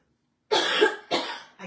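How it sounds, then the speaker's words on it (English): Two harsh coughs close to the mic, the second trailing off, followed by the start of a third, after a moment of silence. "I cannot get a productive cough"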